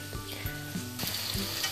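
Chopped onions and mushrooms frying together in a pan for mushroom risotto, a continuous close sizzle with a few clinks of a utensil stirring, no talking.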